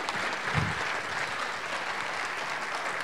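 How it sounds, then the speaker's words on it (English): Audience applause at a conference rounding off a presentation, a dense steady wash of clapping that carries evenly through the whole stretch with no talk over it. "let's give a big applause to Sławek for this great presentation"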